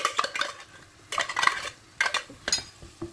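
A utensil scrapes and clinks against a pan as tuna in sunflower oil is stirred into a curry: four short bursts of scraping and tapping, close and clear, with a faint sizzle underneath and no talking.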